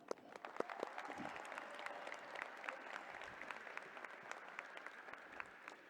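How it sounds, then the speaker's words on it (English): A high school graduation audience applauds at length, a dense patter of many hands clapping at moderate volume, spread through a large space. "Graduates, please take a moment to acknowledge by a round of applause all of those who supported you"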